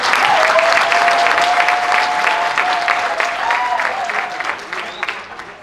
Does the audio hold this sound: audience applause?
yes